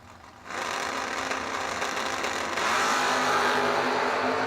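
A Camaro drag racing at a bracket nationals event, engine roaring loud and steady with a step up in volume partway through as it pulls hard, with no talk over it.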